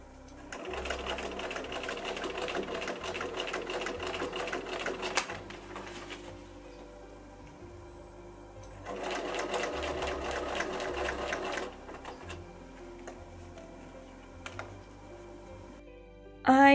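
A sewing machine stitches layers of an 1860s-style corset in two steady bursts of rapid mechanical clatter separated by a quieter pause, close and fairly soft.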